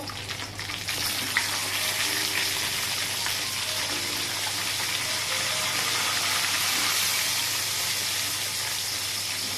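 A rohu fish head sizzles and fries steadily in hot oil in a pan, a dense continuous crackle at moderate loudness with no voices.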